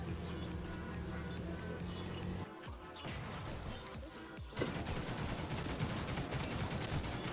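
Scattered gunfire in a video game: faint, distant pops and bursts over background noise, with a brief gap before the shooting resumes.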